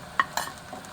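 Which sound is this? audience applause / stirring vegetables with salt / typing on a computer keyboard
stirring vegetables with salt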